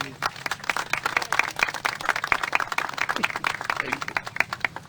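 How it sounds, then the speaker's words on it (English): Crowd applause at an outdoor political rally for economic development and tax relief: brisk, crisp clapping from a modest audience, steady and fairly close for several seconds, with faint voices mixed in. "Please give a round of applause"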